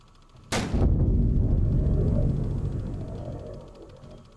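Warship guns fire in a World War 2 naval battle game, one massive close boom followed by a long, rolling low rumble that slowly fades.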